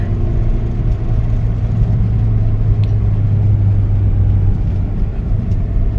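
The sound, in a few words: Toyota Matrix XRS 2ZZ engine climbing a mountain road in fourth gear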